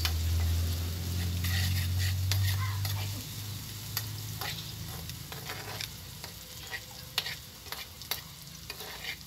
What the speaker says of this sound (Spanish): Ahí está la cebolla ya sofriéndose ahí junto con el aceite.